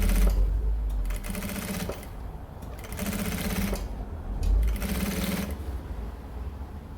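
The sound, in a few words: sewing machine stitching near a zipper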